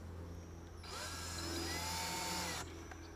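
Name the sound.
power drill driving stainless steel screws into cedar wood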